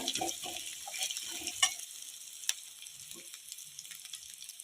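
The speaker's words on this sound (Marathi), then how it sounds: "वाटण घालून चांगलं परतून घेऊया" Spice paste with curry leaves sautéed in a pan, a soft close sizzle with scraping stirs and a few clinks near the start, fading to a quiet background hiss.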